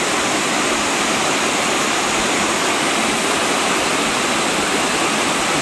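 A steady, roaring rush of falling water, loud and unbroken throughout, like standing close to a waterfall on a mountain in Geumsan, South Korea.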